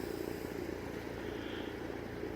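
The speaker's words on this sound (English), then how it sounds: "It is a very unusual airplane." A Fi 156 Storch airplane flies with a faint, distant propeller engine drone, a low, steady hum with slight throbbing, heard alone with no talking over it.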